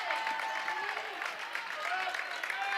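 Applause and crowd noise rise from the stands at a varsity girls' high school basketball game, a steady patter of clapping with scattered shouts, moderately loud and continuous.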